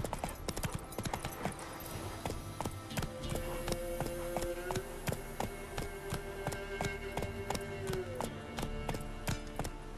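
A horse gallops in The Witcher 3: Wild Hunt on PS5, its hooves giving rapid, steady clip-clop beats close and clear over a sustained musical drone, with no talk heard.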